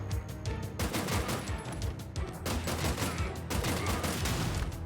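Grenades and gunfire in the Terminator 2D: No Fate video game, a dense continuous barrage of rapid shots and booming blasts, loud and unbroken throughout.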